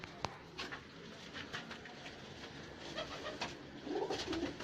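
Young Cheena pigeons coo softly and close by in low, rolling calls that grow clearer toward the end, mixed with light wing flutters and a sharp click near the start.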